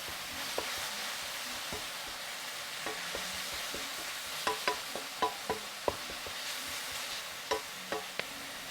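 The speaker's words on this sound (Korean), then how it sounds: "깻잎버섯 넣어 센 불에서 빠르게 볶아주세요" Perilla leaves and mushrooms stir-fried quickly with sauce in a pan over high heat, giving a soft, steady sizzle broken by scattered clicks and scrapes of a spatula against the pan.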